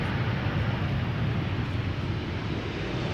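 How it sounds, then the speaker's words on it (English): An EasyJet airliner arriving at Amsterdam Schiphol Airport produces a steady, broad jet-engine roar that stays level throughout, loud and continuous with no voices. "EasyJet arriving from Bristol."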